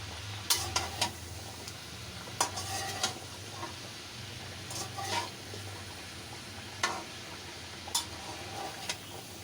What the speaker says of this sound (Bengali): এখন ভালোভাবে নেড়ে চেড়ে নিচ্ছি সবগুলো একসাথে মিশিয়ে নিচ্ছি